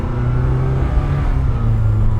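A freshly started turbo Mini truck engine runs on choke, a close, steady mechanical hum with a slight rising rev throughout the short stretch, no talking.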